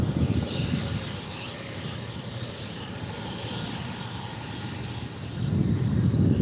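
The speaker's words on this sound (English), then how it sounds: "I can hear the helicopter idling" A steady low engine rumble with a whooshing roar of a tour helicopter idling nearby in New York, swelling slightly at the start and end.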